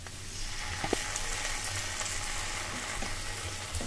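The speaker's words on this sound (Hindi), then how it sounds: "अच्छी तरह से इसको भूनेंगे जब तक कि इसका कच्चापन नहीं निकल जाता।" Garlic ginger paste fries with onions and curry leaves in a pan, a continuous close crackling sizzle with small pops, steady throughout and without voices.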